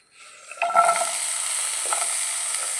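Ingredients for carrot chutney drop into hot coconut oil and erupt into a bright, close sizzle, with a brief stir and clatter of a utensil against the pan as the frying settles into a steady crackle.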